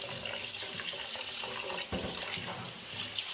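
Rice being washed by hand in a bowl of water, with steady sloshing, swishing and trickling close by, continuous for a few seconds and no voices.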